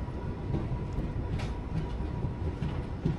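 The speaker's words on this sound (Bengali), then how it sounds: "ট্রেন ঢুকছে next and first stoppage Falakata" Close and loud, the Uttarbanga Express rumbles into Falakata station with a dense, steady roar of wheels and carriages and a faint rhythmic clack throughout.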